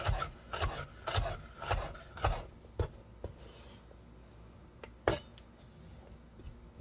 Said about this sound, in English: you just cutting those in the Julienne strips